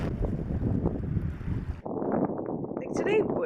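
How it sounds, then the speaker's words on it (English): Strong wind buffets the microphone at a beach, a loud continuous roar that briefly drops before gusting again, with a person talking over it. "I'm not even sure if you can hear me over the wind that is going on right now."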